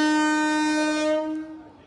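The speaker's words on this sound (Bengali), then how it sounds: "final whistle," The Amghata–Krishnanagar City local train sounds its final whistle on its inaugural run, a single loud, sustained horn blast held for over a second before fading away.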